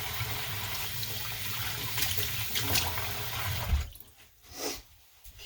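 Running tap water while hands are washed in a kitchen during English muffin baking, a steady close hiss and splash that cuts off abruptly, followed by a few faint drips and handling sounds.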